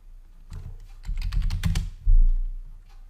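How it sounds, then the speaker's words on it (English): Quick typing on a computer keyboard while working in CAD software, a close flurry of clicking keystrokes for about a second, then a firm thump from a heavier key. "I'll just type node."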